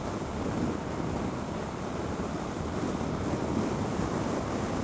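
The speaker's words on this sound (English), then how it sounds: "the wind's getting up" Heavy wind rushes over the microphone during a motorcycle ride, a loud, constant broadband roar with no breaks.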